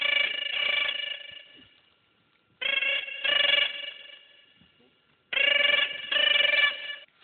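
A telephone rings in bursts of warbling electronic trills, three loud paired rings separated by short silences, clear and close with nothing else heard.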